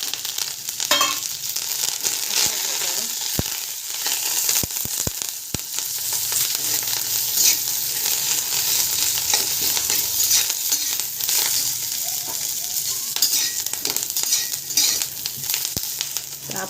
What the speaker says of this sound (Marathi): मी आता कोथिंबीर पण टाकणार आहे, सगळे एकत्रच भाजून घेणार आहे